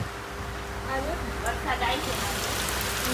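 Heavy rain pours down steadily in a broad, close hiss on the surfaces around, while a voice speaks over it.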